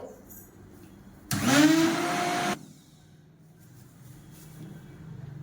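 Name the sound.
blender running on high while preparing a shake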